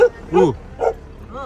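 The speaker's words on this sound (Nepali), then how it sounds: "भोटे कुकुर हो नि यो" A large Tibetan mastiff barks a few times up close, three or four short, deep bursts with brief gaps between them.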